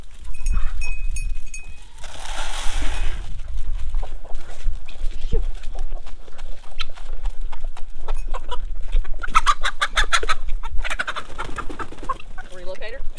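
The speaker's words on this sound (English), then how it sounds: "wrangling these free-range chickens because they keep pooping on my milk stand" Free-range chickens cluck and squawk nearby amid rustling, scuffling and wind noise, with a burst of flapping or agitated calls toward the end.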